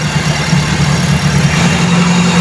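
A Toyota 4AF carbureted engine idles loud and close with a steady, even drone and a low thrum that holds throughout.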